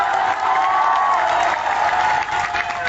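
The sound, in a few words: crowd applauding at a speech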